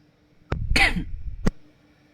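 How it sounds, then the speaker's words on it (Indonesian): A single person coughs sharply, followed by a brief throat sound, close up with quiet around it. "Sorry batuk."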